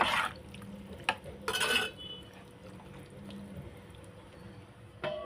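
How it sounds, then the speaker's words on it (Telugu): Dishes clank in a kitchen as a plate is set down. One sharp clink comes first, then a brief rattling scrape of crockery. The rest is quiet with faint background noise. "ప్లేట్ పెట్టుకుంటున్నాను."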